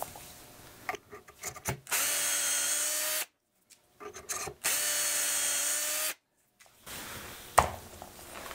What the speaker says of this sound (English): Then we'll just drill these two holes.